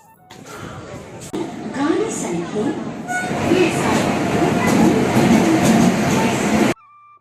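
A train rumbles steadily nearby with a rising, constant mechanical roar, and people talk over it before it cuts off abruptly.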